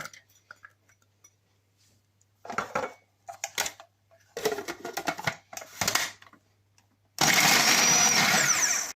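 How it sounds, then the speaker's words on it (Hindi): Scattered clinks and clattering of kitchen items, then a blender grinding onion roars to life, grinding loudly and continuously until the end. "ब्लेंडर में डाल के तो पीस लेते हैं।"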